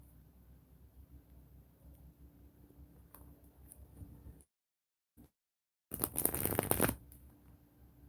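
Tarot cards are shuffled and pulled, a soft papery riffle at low level, then a brief silence followed by a louder burst of rapid card flutter near the end.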